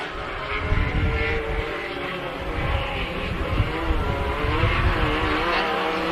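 Off-road race buggies, Limited Buggy and Limited 1600 classes, roar around a desert short course track, a steady loud blend of engines revving and passing throughout with no pauses.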